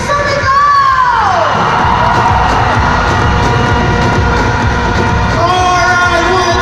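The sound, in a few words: crowd shouting and cheering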